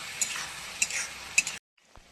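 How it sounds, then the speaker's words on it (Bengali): Okra pieces stirred and sautéed in a hot pan for a fish curry, giving a steady soft sizzle with three sharp utensil scrapes before the sound cuts to near silence. "এই যে ভেন্ডিগুলো একে একে দিয়ে দেবো। একটু কষাতে থাকি"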